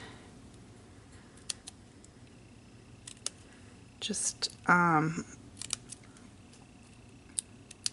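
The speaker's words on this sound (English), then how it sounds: "I had to grab a pair of scissors." Scissors cut a small paper tag for a handmade Vintage Leaves card, giving a few crisp, close snips in a short burst mid-clip among quiet ticks, with a voice speaking.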